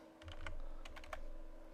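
A few quick keystrokes are typed on a computer keyboard, close and faint over a low background hum, with no talking.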